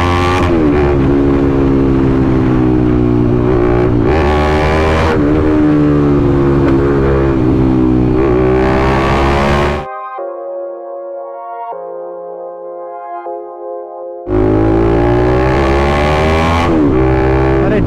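A BMW motorcycle fitted with an Akrapovic exhaust revs hard and loud, with rising and falling engine sweeps, a quieter idling stretch in the middle, then another burst of throttle.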